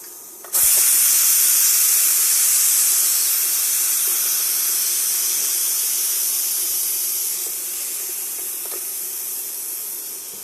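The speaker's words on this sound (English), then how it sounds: "We'll stop and we will release pressure." A pressure cooker making lemon sevai vents its steam. A loud, sharp hiss bursts in suddenly and holds steady, then eases a little as the pressure drops.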